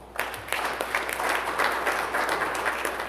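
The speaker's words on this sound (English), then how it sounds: "Clap for him, please." Church congregation applauding their pastor on appreciation Sunday: after a couple of isolated claps, a full round of applause swells and holds steady, moderately loud in a reverberant hall.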